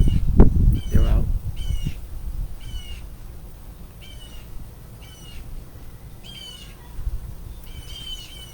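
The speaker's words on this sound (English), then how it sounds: "Hear my birds talking. The hawks, they're out." Hawks call outdoors, a string of short harsh repeated cries at an even pace, at moderate distance, after a few bumps and a brief voice up close.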